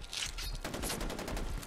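Rapid automatic gunfire bursts in Far Cry 4, a dense fusillade of loud shots that runs continuously and grows heavier partway through, with no voices.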